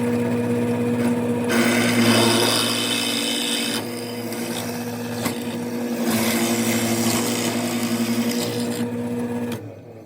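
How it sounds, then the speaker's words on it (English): Drilling holes into light tubing salvaged from a broken umbrella, a steady loud motor whine with a brief pause near four seconds, running alone and stopping just before the end. "So what I have to do is you have to drill 3 holes, one on the top, middle,"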